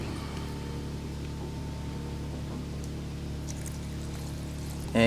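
Five ounces of paint reducer poured from a container while a DIY repaint is mixed, a steady soft liquid rush running continuously at close range, with a brief louder splash or clatter right at the end.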